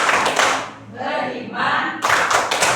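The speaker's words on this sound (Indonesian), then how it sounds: "tepuk profil pelajar Pancasila" Students do a rhythmic clapping chant in a classroom, the Pancasila student profile clap, with bursts of patterned claps broken by a short pause and a chanted voice in between.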